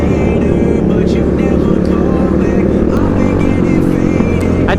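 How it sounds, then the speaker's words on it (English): A pack of around fifty motorcycles rolls out of a parking lot, engines rumbling and revving together loud and close in a dense, continuous roar. "I'd say we got probably about 50 bikes rolling deep here"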